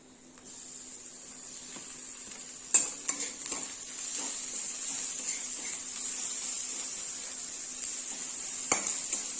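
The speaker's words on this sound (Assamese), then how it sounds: "এতিয়া আদা আৰু ৰচুনখিনি মই দি দিম" Ginger and garlic fry with onions in a hot pan, giving a continuous sizzle up close, with a few sudden clatters and scrapes of a stirring utensil partway through and near the end.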